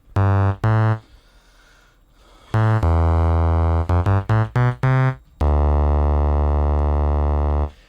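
A buzzy, harmonically rich synthesizer tone shaped by phase distortion in Bitwig Phase-4 sounds in short bursts and stabs, then holds a long sustained note, loud and alone.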